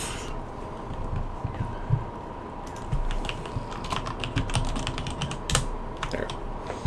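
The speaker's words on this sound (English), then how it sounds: "I'm physically typing all that out." Rapid, irregular clatter of computer keyboard keys being typed, close and fairly loud, with the keystrokes growing denser in the second half over a steady background hum.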